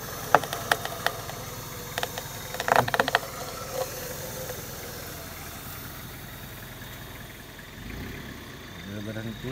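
A car engine idles with a low, steady rumble, punctuated by a few sharp clicks and rattles. A voice speaks over it.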